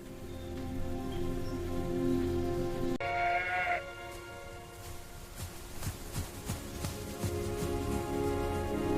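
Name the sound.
sheep bleating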